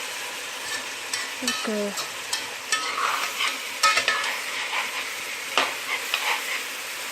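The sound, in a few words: stirring onions frying in a pan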